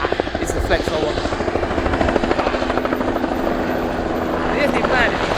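Helicopter flying low over a car park, a loud close rotor thrum and engine whine that holds throughout, with voices and outdoor noise mixed underneath.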